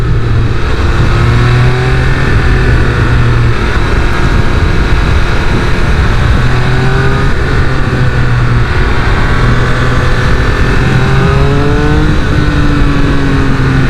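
Loud, close engine of a Triumph Speed Triple 1200 RR motorcycle on the move, revs climbing and dropping repeatedly through the gears amid steady wind noise, no voices.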